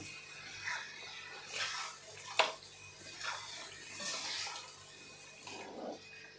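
Ground masala paste for Kolhapuri chicken is sautéed in oil over high heat, with soft, repeated swishing stirs in the pan and one sharp utensil clink, quiet and close.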